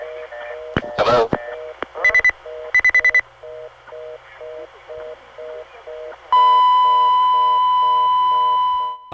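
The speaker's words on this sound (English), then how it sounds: "I heard a lot of high-pitched beeps which corresponded to someone in the phone company apparently dialing remotely." Repeating electronic phone-line beeps in a steady pattern from GTE/Leich CXP-5 telephone exchange equipment during an outage, interrupted by quick bursts of tones, ending with a long continuous test tone.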